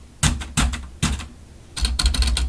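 Sharp clacks of a manual typewriter being struck: three separated key hits in the first second, a pause, then a faster burst of several strikes, close and crisp in a quiet room.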